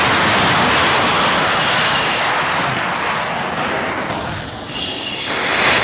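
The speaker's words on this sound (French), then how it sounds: "On poursuit le décollage." Strategic air forces jet aircraft on its takeoff roll and climb-out, a loud continuous engine roar heard from on board that persists throughout with slight swells.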